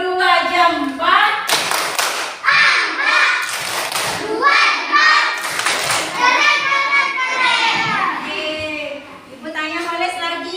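A classroom of children doing a rhythmic two-thumbs clap, bursts of sharp claps mixed with lively children's voices and chatter.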